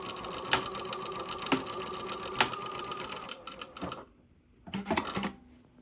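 A Juki DDL-8000A industrial sewing machine stitching, a fast steady mechanical hum with rhythmic clicks for about four seconds, then stopping and giving a short second burst; close and without speech.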